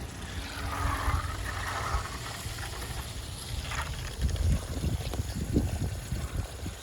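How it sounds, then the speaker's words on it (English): Steady soft hiss and trickle of water running through a garden drip irrigation line outdoors, continuous and fairly faint, with some low rumbling underneath. "And you can hear the drip line system."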